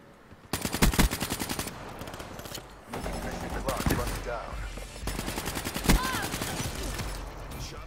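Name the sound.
gunfire in video game Call of Duty Black Ops 3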